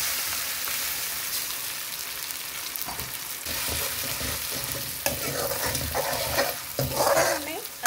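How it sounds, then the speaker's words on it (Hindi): Onion and tomato puree for dhaba-style sev bhaji sautés in a pan, a constant close sizzle punctuated by rhythmic spoon scrapes and stirring thuds that grow busier toward the end. "इसको हमें अच्छी तरह से भूनना है जब तक कि ये सारा इसका कच्चापन निकल ना जाए।"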